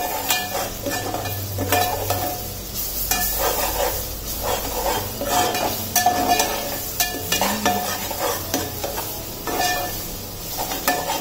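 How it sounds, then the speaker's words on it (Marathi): Red chili, garlic and ginger paste sautéed in a pan for a village-style spicy chicken gravy, a continuous sizzle with repeated scraping and clinking of a spoon against the pan, close and fairly loud, no talk. "आता लाल मिरची, लसूण आणि आलं असं हे वाटण होतं. परतून घेऊया व्यवस्थित."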